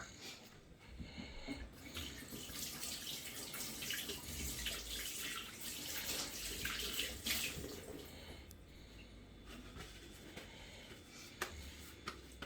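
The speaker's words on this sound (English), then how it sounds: "I'm just gonna wash my hands and I'll be straight back" Hands are washed under a running kitchen tap while cooking liver and kidney at home: a steady, fairly faint rush of water with small splashes continues throughout, with no talking.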